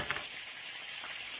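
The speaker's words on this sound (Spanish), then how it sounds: "Pues lo vamos a sofreír bien. Primero por la parte de la piel y luego por el otro lado." Cod frying skin side first in a pan, a steady close broadband sizzle with faint crackles, no voices.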